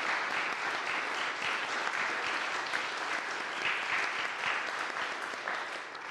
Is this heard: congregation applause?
yes